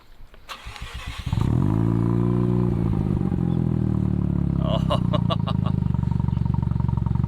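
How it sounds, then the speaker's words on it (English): A Mazda RX-7 rotary engine cranks and catches, then idles loudly with steady revving through the exhaust, close by and continuous after a brief starter clatter. "the classic RX-7 sound, the rotary."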